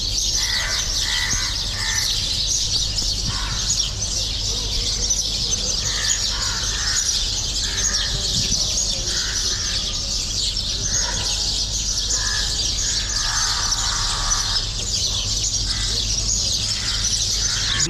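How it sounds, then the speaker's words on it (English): A dense chorus of house sparrows chirps continuously at dawn, dozens of birds roosting together in one tree in Mangalajodi, Odisha, with overlapping tweets close by and a steady low rumble underneath. "This is known as the dawn chorus of the house sparrows."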